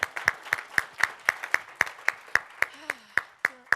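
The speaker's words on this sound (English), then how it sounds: "Give them a round of applause." Single pair of hands clapping at an event, regular evenly spaced claps close by, with a few brief voice sounds between them.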